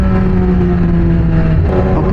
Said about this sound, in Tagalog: Maingay ng motor natin.